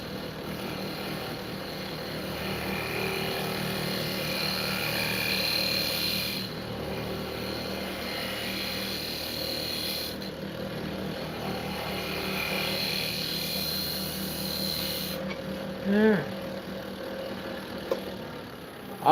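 A scraper cutting a spinning wooden bowl on a lathe gives a steady, close, continuous whirring drone with a faint scraping texture throughout, broken by a brief louder catch near the end.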